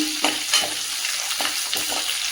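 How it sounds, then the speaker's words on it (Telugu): Ginger frying in a pan for an egg gongura pulao, a loud steady sizzle broken by a few soft scraping stirs at a relaxed rhythm. "హాఫ్ స్పూన్ అల్లం వేసుకుందాం అల్లం వేసుకొని లైట్గా దాన్ని కలిపేసుకున్నాం"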